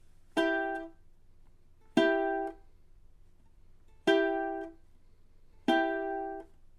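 A four-string guitar plays a slow rhythm of muted strums and plucked notes: four evenly spaced, ringing chords, each cut short, with quiet gaps between them and no voice.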